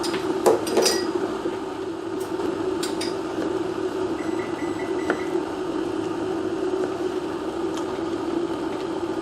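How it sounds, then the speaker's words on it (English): Japanese chef knife slicing tomatoes thinly on a cutting board: a few sharp taps of the blade against the board, clustered near the start and then scattered, over a steady background hum. "So if you want to cut your tomatoes thin like this, you can do it."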